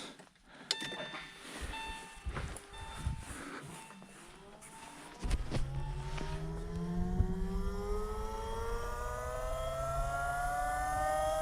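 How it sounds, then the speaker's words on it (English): A Porsche RSR cup-car electric steering pump, fitted in an LS3 V8-swapped Porsche 996, whirs up to speed at ignition with a rising whine that settles into a steady hum, following some clicks and faint handling noises. "turn the ignition on so you guys can hear this electric steering pump stuff fire up"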